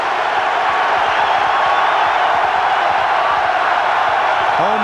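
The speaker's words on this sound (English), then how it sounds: "Home crowd in it again." The home crowd at a 1994 Michigan at Illinois college football game roars in a steady, loud, dense wash of cheering that continues unbroken throughout.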